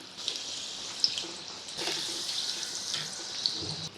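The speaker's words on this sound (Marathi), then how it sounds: "आता हे मंद आचेवर मी तळते आहे" Bakarwadi frying in hot oil over a very low flame, a steady soft hiss of bubbling oil with faint crackles, gently swelling midway and continuing close and even throughout.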